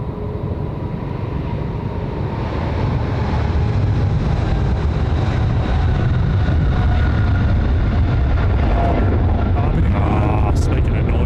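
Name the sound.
jet airliner engines roaring at Sydney Airport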